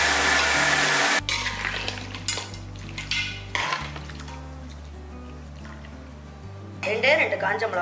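Country chicken meat is sautéed in a pan for a Tamil chicken curry, with metal spoon scrapes and clanks against the pot over a soft sizzle, the clatter louder at the start and end while someone talks over it.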